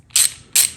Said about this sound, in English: ratchet like that